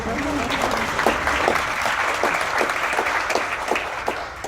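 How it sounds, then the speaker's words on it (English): An audience at a Baltimore City mayoral address applauds steadily for several seconds, a dense wash of clapping from a crowd in a hall. "we can clap for that"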